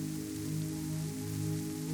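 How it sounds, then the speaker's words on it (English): Steady rain patters against windows, a soft continuous wash with a low hum beneath it. "the rain continues against the windows"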